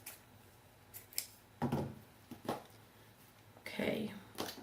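Scissors snip through material for a small 5 x 7 canvas craft in a few separate bursts of cutting, close and fairly quiet, with soft rustling between the cuts.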